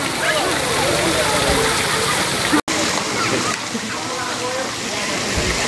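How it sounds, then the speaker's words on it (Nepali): Insecticide spraying onto rose plants in a garden: a steady hissing, splashing spray runs almost continuously at close range, broken by one brief gap. "यहाँनिर औषधि यो गुलाबको फुलहरूमा लाउँदै गरेको अवस्था पनि हो यो"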